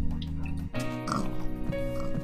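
A pig in Minecraft grunts and oinks close by in short nasal snorts. Game ambience continues behind it and a voice speaks briefly.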